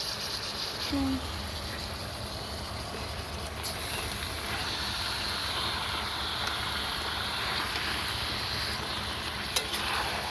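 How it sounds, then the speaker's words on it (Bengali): Chicken meat for a curry goes into a hot pan and sizzles steadily with a hiss, close and moderately loud, with occasional soft clinks and a faint brief voice. "এবার মাংসটা ঢেলে দিচ্ছি।"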